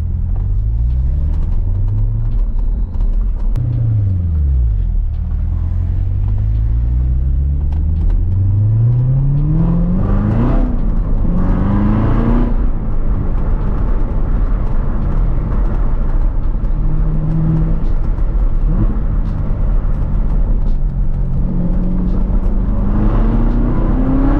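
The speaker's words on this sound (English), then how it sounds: "All you gotta do is downshift and it rev matches for you." A 650 hp Corvette C7 Z06 downshifts with automatic rev matching, its engine blipping in sharp, loud rising sweeps repeated over a steady deep drone from inside the cabin.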